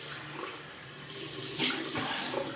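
Water runs from a tap to rinse a razor, a steady hiss of flow splashing into a sink that grows slightly louder partway through.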